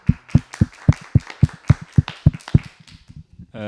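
A small audience at a housing conference in Barcelona gives a brief round of applause after a panel, the claps sparse, loud and close, about a dozen distinct strikes before fading, with a voice at the end.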